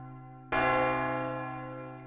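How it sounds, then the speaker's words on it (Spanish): A church bell rings once as part of a theatre play's sound design, a single clear strike followed by a long, slowly fading metallic hum over a quiet background. "hay varios momentos en los que se escuchan campanadas"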